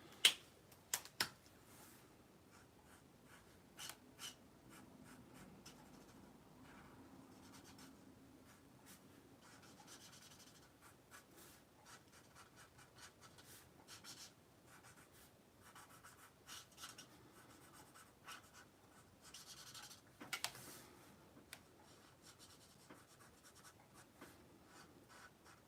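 Pencil sketching on paper for a drawing of an old 1798 house in Windsor, Ontario: close, quiet scratchy strokes and light taps come in uneven bursts, with a few sharper clicks and no talk.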